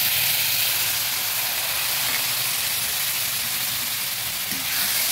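Spice powders, turmeric and chili, sizzle in a hot pan as a little water is added while cooking a Bengali katla fish curry with green banana; steady close hissing and frying crackle continues throughout, with no talk.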